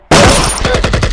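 Gunfire from a Punjabi action film erupts in a loud blast, followed by a rapid run of repeated shots in quick, even succession, with no voices.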